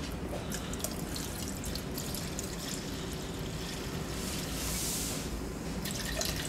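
Jenever is poured into a measuring vessel for cooking, a continuous liquid trickle with faint drips under a busy hall-like background hum, quiet and with no talking.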